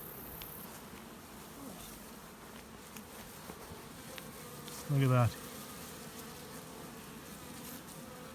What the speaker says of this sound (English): Your guard bees coming down, and they're patrolling the pallet.